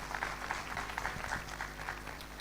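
Light applause rises from the audience at a gender equality conference in Ghana, a modest, somewhat uneven patter of claps at moderate distance in a hall.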